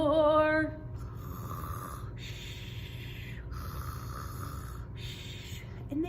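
A voice imitates a dragon snoring, with long raspy drawn-out snores and hissing exhalations repeating about every two seconds, close and fairly loud, after a brief sung note at the start.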